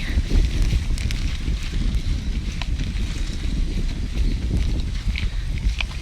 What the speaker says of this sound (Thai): อันนี้ก็จะลมแรงไปหน่อย